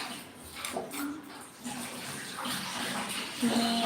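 Water runs steadily from a tap into a basin, a continuous splashing flow with faint household sounds behind it.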